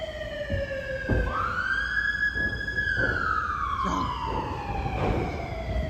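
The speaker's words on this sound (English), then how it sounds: "That's an ambulance." An ambulance siren wails past on a busy New York City street near Central Park, its rising and falling tone loud and close over traffic rumble and scattered thumps.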